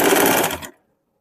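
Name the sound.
sewing machine stitching blouse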